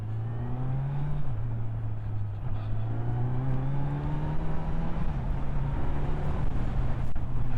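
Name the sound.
Kawasaki Z900 inline-four motorcycle engine while riding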